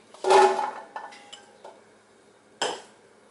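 Chopped zucchini tossed into a big cooking pot: a loud clattering thud up front, a few lighter knocks and clinks of metal, then another sharp clank near the end, all close and without speech.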